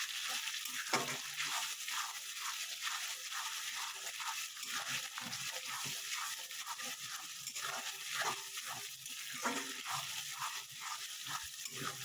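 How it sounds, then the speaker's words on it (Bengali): Onions frying with ginger garlic paste in a pan for chicken aloo curry, a steady bright sizzle with repeated scraping stirs throughout, close and alone without voices. "এইভাবে একটু ভালো করে ভাজা ভাজা করে নেব।"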